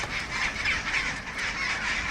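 Birds on rocky island terrain give repeated honking, duck-like calls in a steady rhythm, fairly loud over a constant background of wind or surf.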